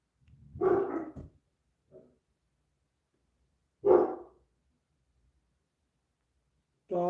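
Several dogs bark in short separate bursts spaced a few seconds apart in a quiet indoor room, with a soft yip between them and no voices.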